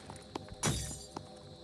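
A glass window shatters in the video game Phoenix Point, one sharp bright crash in the middle of the short clip, flanked by a few soft thuds like footsteps.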